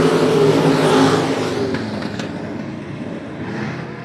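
Dwarf race cars roar around I-37 Speedway. Loud engines rev and accelerate past, then fade into a steadier distant drone as the pack moves away.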